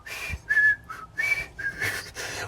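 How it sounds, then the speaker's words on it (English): Someone whistles a TV theme song, a clear melodic tune in several short phrases with brief pauses between them. "Then you start to hear somebody whistling in the distance."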